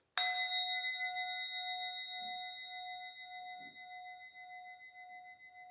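A memorial bell is struck once, giving a sharp metallic clang that rings on as a long, clear, slowly fading tone in a quiet room.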